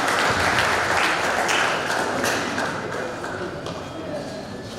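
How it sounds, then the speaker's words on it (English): Audience at a university lecture applauding Summit University in Offa; a burst of loud clapping that slowly fades over a few seconds, with some thumps and murmurs mixed in. "Clap for Summit University, please."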